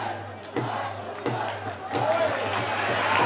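At a 2019 Nadeshiko League women's football match between Urawa and Iga FC at Urawa Komaba Stadium, a stadium crowd breaks into applause that swells after a play. Scattered claps and crowd noise rise under a commentator's voice.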